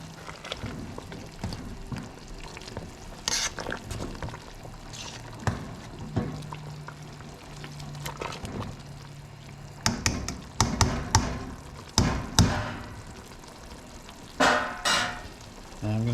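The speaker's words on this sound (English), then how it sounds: "I'm going to take the vegetables, mix everything back up." A spoon stirs vegetables through a pot of simmering beef stock, giving soft scraping and liquid swishes, with louder clunks and splashes toward the end.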